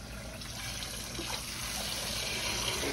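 Water runs steadily from a kitchen tap to rinse out a dish, a close, continuous gushing hiss that swells slightly as it goes, with no talk over it.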